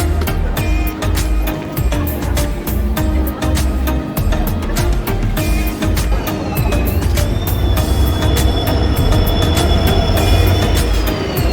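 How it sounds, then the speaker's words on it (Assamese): A passenger train waits at Guwahati railway station, its low steady rumble running throughout, with thin drawn-out wheel or brake squeals rising above it and a faint voice in the background. "আমাৰ ট্ৰেইনখন আহি পাইছে, ৰৈ আছে।"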